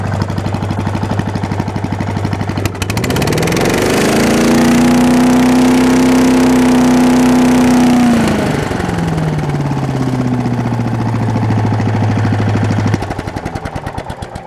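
A large tailgate-mounted leaf vacuum loader with an all-metal housing, its engine idling steadily, then revved up to full power with a rising, sustained loud roar before dropping back down to idle, alone without talk.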